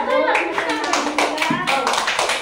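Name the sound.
children clapping hands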